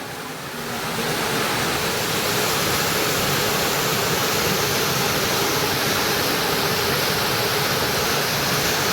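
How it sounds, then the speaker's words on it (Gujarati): Heavy storm rain roars in a dense, unbroken wash of noise that swells in within the first second and stays loud and constant. "વરસાદ જોરદાર આવવા માંડ્યો"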